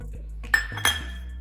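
Besan (chana gram flour) dosa batter with egg being mixed in a bowl: a couple of sharp clinks of a utensil against the bowl, close and fairly loud, with quieter scraping between them and no talk.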